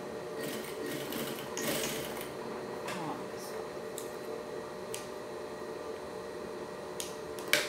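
A sewing machine runs steadily at low level while stitching piping onto a fabric pouch, a continuous whirring hum broken by faint ticks.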